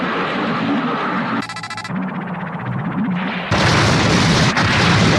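Cartoon submarine torpedoes launching and blowing up underwater: deep booming blasts with a rattling burst midway, then a loud sustained rumbling explosion filling the final seconds, no talk over it.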